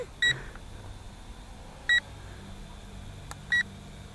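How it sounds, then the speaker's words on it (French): Three short electronic beeps from a toy drone's remote control, spaced a second or more apart, each a bright double tone, over a quiet background hum. "la télécommande bip"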